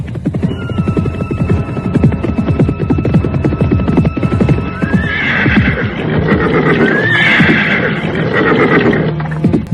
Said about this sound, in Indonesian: Windu Pawoko mengarahkan kudanya mendekati gadis itu